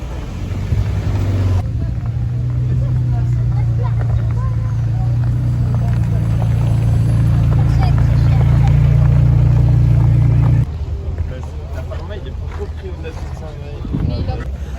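A McLaren 720S supercar arrives at a Toulouse meet-up of Porsche GT3s and other exotics, a loud steady engine drone rising and holding close by for several seconds before cutting away, with voices talking around it.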